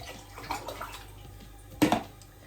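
Mushroom soaking water being poured into a lean borscht broth, a soft trickle at first, then a brief louder splash near the end, quiet with no talk.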